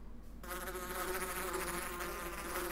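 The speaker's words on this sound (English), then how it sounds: "And I don't want to get stung by bees." Insect-like buzzing of bees in Minecraft, a steady, dense drone that starts after a brief quieter moment and then holds at an even level throughout.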